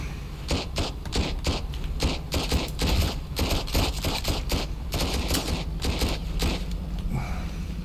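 Rapid bursts of gunfire in the video game Sunkenland, loud and close, firing in quick repeated volleys over several seconds with only brief gaps between shots.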